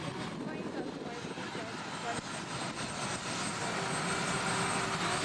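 Aircraft being repositioned on the flight deck of the carrier USS Abraham Lincoln (CVN-72) in port during RIMPAC 2000, a steady broadband engine and deck roar that stays loud and continuous throughout, with a faint tonal whine joining near the end.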